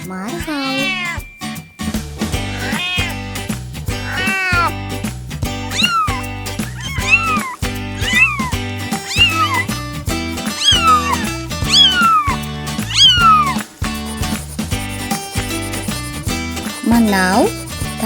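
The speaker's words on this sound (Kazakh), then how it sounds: "Ал бұл мысық." A domestic cat meows repeatedly, the rising and falling cries recurring over busy backing music, with a voice speaking alongside in a children's animal-sounds compilation.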